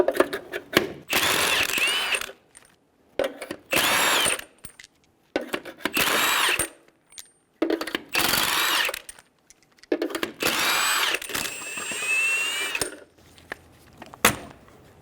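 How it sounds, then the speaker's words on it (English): Impact gun with a 21mm socket spinning off the six lug nuts on a 2005-2015 Toyota Tacoma front wheel, in loud repeated bursts of whirring and rattling separated by short pauses, with metallic clinks in between. "Using a 21mm socket, remove the 6 lug nuts."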